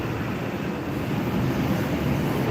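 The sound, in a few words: Jet2 airliner taxiing at Gran Canaria Airport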